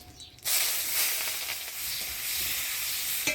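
Chopped onion drops into hot oil already tempered with dried red chillies, whole cumin and bay leaves, bursting into a sudden loud sizzle that hisses steadily and close for a few seconds.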